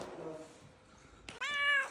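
A domestic cat lets out a single short, bright meow near the end after a quieter stretch, heard up close indoors, with a faint murmur of a voice earlier on.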